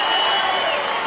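Crowd applause and cheering fill a boxing arena during a women's world title bout, a steady wash of clapping and voices with no pauses.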